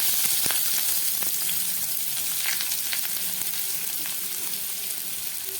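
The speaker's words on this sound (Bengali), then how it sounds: "এই সবগুলোকে আমি একদম গ্যাস কমিয়ে খানিকক্ষণ ভেজে নেব।" Chopped ginger, green chillies and onion sizzle steadily in a pan of hot oil over low gas, a continuous close frying hiss with a few faint stirring taps and no speech.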